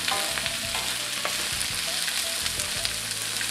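Chili peppers are stir-fried in hot oil, giving a steady close sizzle with faint scraping and stirring knocks throughout.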